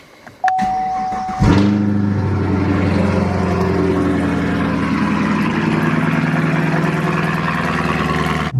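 Car exhaust with NPP active valves open in track mode, a brief tone and click followed by the engine firing up and holding a loud, steady, throaty idle close to the microphone.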